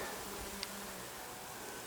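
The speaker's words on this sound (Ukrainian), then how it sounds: "на якому пасуться бджоли" Faint, steady buzzing of bees foraging on flowering chamomile against a quiet outdoor background.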